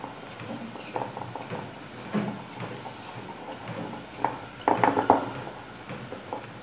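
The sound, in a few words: stirring cocoa powder and milk in a bowl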